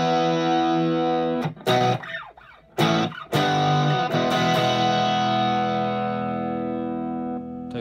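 An electric guitar runs through a Headrush rig playing a song. Distorted chords ring loud, with a few sharp stabs, then one long sustained chord decays slowly.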